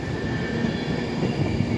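A Class 350 train departs Crewe station bound for Liverpool Lime Street, giving a steady rumbling roar with a faint high whine above it, sustained and moderately close.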